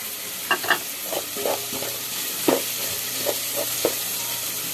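Red pepper and onion sizzle steadily in a frying pan, with a continuous hiss broken by several scraping stirs of a utensil, close and fairly loud, no voices.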